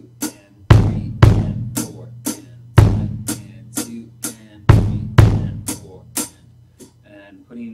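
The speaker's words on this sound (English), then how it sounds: "we're going to add in an extra kick drum. And we're going to add it on the end of three." Rock beat on a drum kit with an added kick drum on the end of beat three, played alone as a steady groove of sharp kick and cymbal hits, no snare.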